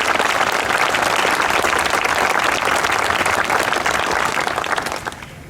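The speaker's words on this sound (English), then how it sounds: "Please give everyone a round of applause." Sustained applause from a large crowd, dense steady clapping at full strength that begins to fade in the final second.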